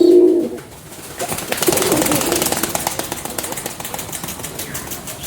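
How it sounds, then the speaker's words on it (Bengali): Madrasi pigeons at a full loft sale in Budge Budge, South 24 Parganas, give a low coo at the start, followed by a burst of wing flapping and rustling that continues at moderate loudness, with no talk. "একটা জিরিয়া আছে আর একটা চোখের ম্যাড্রাস পায়রা আছে।"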